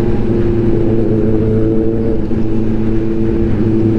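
Kawasaki ZX-10R sport motorcycle on a group ride, its engine droning steadily and loud throughout with a strong low harmonic hum, no voices.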